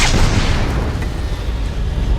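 A deep, rumbling gas explosion in a film, with heavy low-end roar that sustains and slowly decays, dense and loud throughout.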